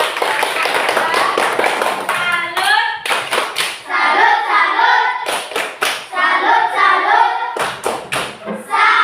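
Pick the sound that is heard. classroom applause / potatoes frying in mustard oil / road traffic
classroom applause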